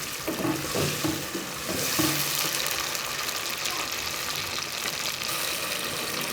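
Chopped tomatoes being stirred into curry masala in a pan for kofta curry, giving a steady loud sizzle with scraping stir strokes early on and continuous frying hiss after.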